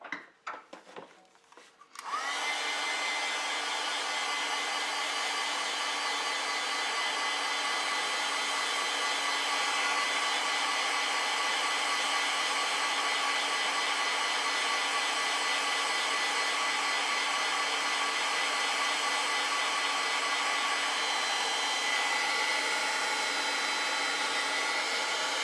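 A hair dryer switches on after a couple of seconds of handling noise, then blows steadily and loudly at close range for the rest of the time, drying acrylic paint, with no talking.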